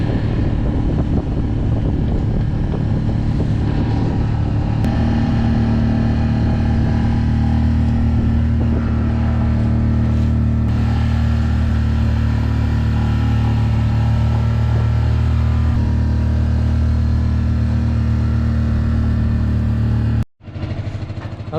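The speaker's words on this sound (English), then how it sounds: "I've still got the engine running. I'm just in neutral, just idle." Sailboat engine idling in neutral at anchor after a solo sail into strong winds, a steady low drone running continuously with wind rumble over the microphone, then cutting off abruptly near the end.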